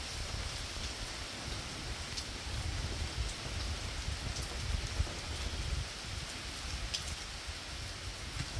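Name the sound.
rain falling in the mangrove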